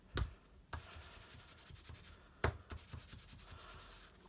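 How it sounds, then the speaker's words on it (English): Embossing buddy pouch swiped over a card stamped in Versamark ink, giving soft dry rubbing and brushing strokes with a couple of sharper taps, close and quiet, with no talking. "taking our embossing buddy"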